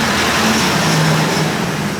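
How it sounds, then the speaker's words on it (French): A truck passes on a city street in France, its engine and tyre roar loud and close, holding steady over about two seconds with general traffic noise beneath it. "Un camion passe."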